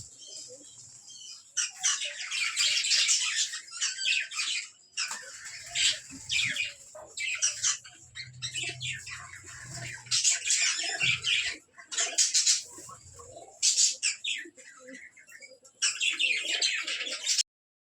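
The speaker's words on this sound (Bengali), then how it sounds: "এখানেও বন্ধুরাও আমার 40 থেকে 50টা মতো পাখি আছে।" Pet cockatiels and budgies in a home aviary holding forty to fifty birds chirp and tweet in dense, bright bursts. Near and fairly loud, with brief gaps between flurries and no talk.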